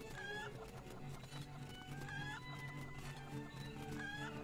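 Chicken clucking from the Link's Awakening video game on Nintendo Switch, a few short squawky calls repeating over steady game music, with no talk.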